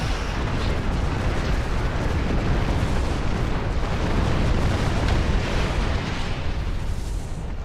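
High-yield torpedoes from a Star Trek video game fire and blow up in a dense, continuous roar of booming blasts that stays loud and unbroken throughout, with no voices.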